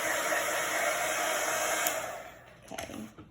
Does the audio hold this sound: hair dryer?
yes